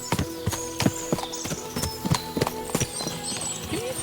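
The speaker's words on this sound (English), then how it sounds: "What a lot of horses!" Horses in the video game Kingdom Come: Deliverance 2, with a steady run of hoof clip-clops at close range and a brief whinny toward the end.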